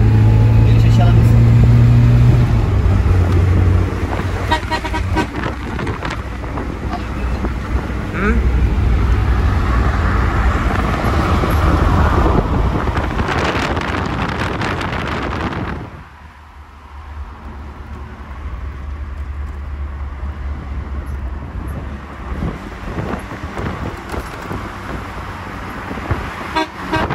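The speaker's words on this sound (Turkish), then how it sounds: "Üç korna yaptık." A Tofaş car on the road in Izmir sounds its horn amid loud engine and traffic noise, with people talking inside the car before the cabin noise drops suddenly.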